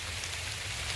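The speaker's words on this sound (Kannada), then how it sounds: "ಜೋರ್ ಮಳೆ ಬಂತು." Heavy rain falls outdoors during a summer holiday trip, a dense and steady hiss of drops on surfaces with no voices.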